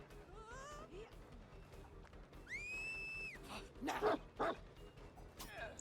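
A dog in Dead by Daylight barks and yips a few times in quick bursts, mixed with whistle-like tones and background game sounds at modest volume.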